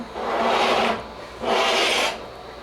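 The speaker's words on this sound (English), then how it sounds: "our basil really shrank. So we want to make sure, can you hear that? That it's really crispy" Two dry crackling rustles as brittle dehydrated basil leaves are crushed and handled up close, with a short pause between them.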